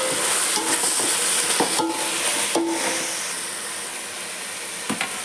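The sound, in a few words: sautéing mint leaves in a pan for chicken biryani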